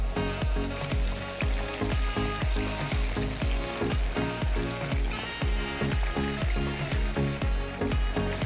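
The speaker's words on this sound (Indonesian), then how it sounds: "Sobat Simple, minyaknya udah panas nih. Kita langsung goreng ayamnya." Chicken pieces frying in hot oil for Indonesian fried chicken give a loud, steady sizzle and crackle lasting throughout, with repeated low thumps and clatter from the pan or utensils and no voices.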